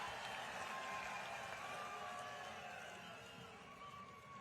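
A stadium crowd in Jind, Haryana applauds in welcome of Chief Minister Nayab Singh Saini. The clapping is steady and distant, a faint wash of crowd noise that eases slightly toward the end.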